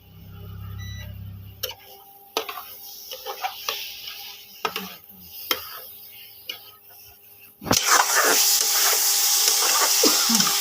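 Boiled potatoes dropped into spice paste for a Bengali katla fish curry, stirred with sharp spoon taps against the pan, then a loud burst of sizzling takes over near the end.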